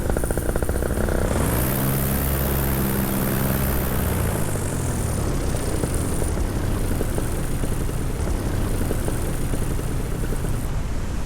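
A paramotor engine drones steadily during a landing, a loud, continuous propeller buzz with a brief rising whine early on, heard alone and close.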